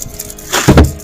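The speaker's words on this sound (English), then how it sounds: "Maybe you can watch cars driving by." A single car passes by outside a house in Abruzzo, Italy: a short, fairly loud whoosh that swells and fades within about a second.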